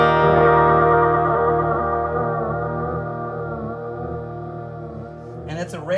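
Nocturne Mystery Brain BS-301 effects pedal with a photocell-driven randomized pulse, processing a sustained chord into a dense, distorted, echoing wash that wavers in intensity and fades slightly before a brief burst at the end; no one talks.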